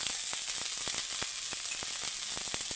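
Broccoli sizzles steadily in a hot frying pan while being made into a spiced masala dish, a continuous close hiss broken by frequent sharp pops and crackles.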